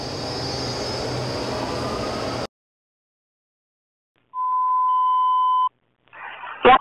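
Washington Metro train runs with a loud steady rumble that cuts off abruptly, then a clear electronic beep tone sounds for about a second, followed by a brief clatter.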